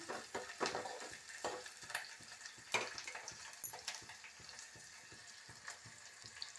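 Green chilies, onion and curry leaves frying in a pan, heard as a quiet sizzle with irregular stirring clicks and scrapes close by, no talk.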